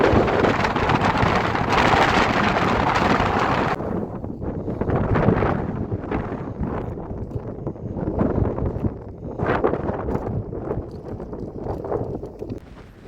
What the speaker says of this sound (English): Let me unmute so you can hear the wind and how strong they are.